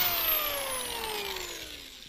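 A power drill bores a pilot hole into wood for a wine stand, its motor whine sliding steadily lower in pitch as it works, close and loud with no speech.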